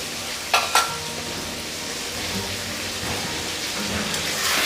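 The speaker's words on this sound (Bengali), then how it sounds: "দু থেকে 3 মিনিট ভালো করে নাড়াচাড়া করতে হবে।" A fish and tomato curry made with a rohu (katla) fish head frying in a pan, stirred with a spoon: a steady close sizzle throughout, with a couple of sharp scraping clinks early on and no talking.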